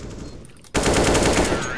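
Close, rapid automatic gunfire from the video game CS:GO bursts in abruptly after a brief quieter stretch and continues densely to the end.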